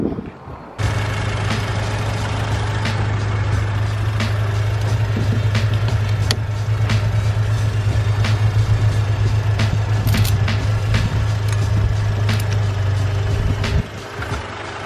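A car engine starts and idles close by, a steady low rumble holding after an abrupt start, with occasional clicks and clatter over it before it cuts back near the end.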